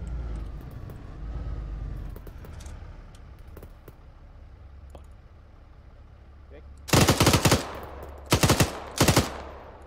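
Bursts of AK rifle fire in a video game set in Mosul, with three loud rapid clusters of shots standing out against a low vehicle engine rumble, and someone speaking faintly in the background.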